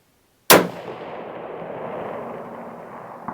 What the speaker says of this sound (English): We will go for a headshot on that man steel in the middle.